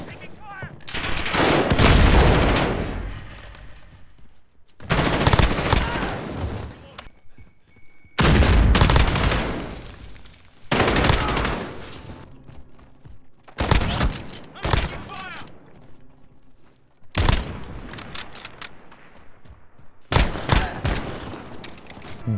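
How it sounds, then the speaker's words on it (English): Call of Duty Modern Warfare 2v2 gunfire comes in repeated bursts of rapid automatic shots and booming single blasts, loud and close, separated by short quieter gaps, with speech faint underneath at times. "Just hear how some of these guns sound."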